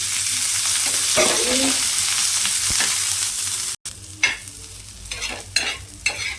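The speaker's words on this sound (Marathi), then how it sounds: "हा कांदा आहे ना आपल्याला हलकासा लालसर करून घ्यायचा आहे यामध्ये तेल घालून घेते" Onion frying in oil in a pan while a mutton paya soup is being made: a loud close sizzle with scraping stir strokes, a brief cut, then sharper bursts of stirring and crackle.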